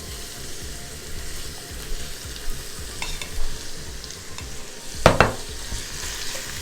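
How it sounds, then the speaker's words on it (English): Shrimp sizzles with onions and bell peppers in a pan while a utensil stirs it, producing a steady frying hiss and irregular scraping strokes, with one sharp clank near the end. "we are going to combine the shrimp with the veggies"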